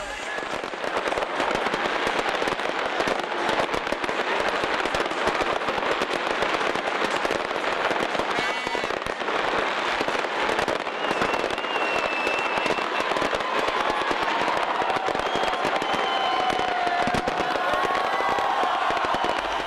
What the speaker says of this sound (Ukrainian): Свято завершується дивовижними салютами перемоги у київському небі.